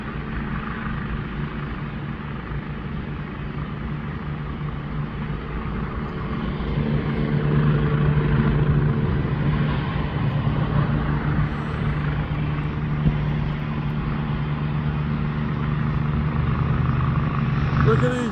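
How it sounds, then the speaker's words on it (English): A swarm of drones flies overhead in Philadelphia, giving a continuous, loud engine-like drone that swells midway and holds steady, with no talk over it. "Look at these, all these drones."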